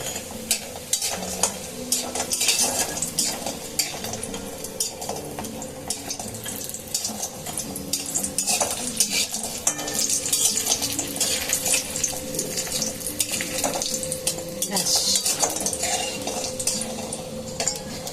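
Dried lentil dumplings (bori) fry in oil in a pan, with clattering utensil scrapes and stirring over a light sizzle throughout, close and busy, with no voices.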